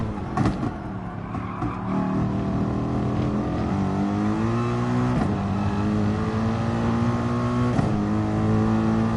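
Race car in the Gran Turismo Sport video game accelerating hard out of a slow corner, engine pitch climbing steadily through the gears with brief shift breaks, loud and continuous with no talk.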